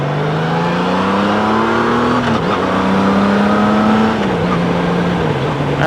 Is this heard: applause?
no